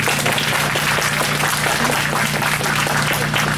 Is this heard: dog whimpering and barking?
no